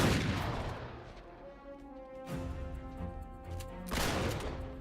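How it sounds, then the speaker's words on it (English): Enemy gunfire in Uncharted 3 crackles in loud bursts at the start and again near the end, with booming echoes and a ringing tail between the volleys. "I want the enemy to keep shooting at you so that they don't shoot at me."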